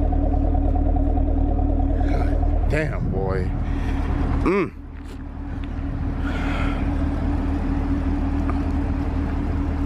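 A 2017 Chevy Camaro SS (2SS) V8 idles with a steady deep rumble close by, while someone talks loudly over it throughout.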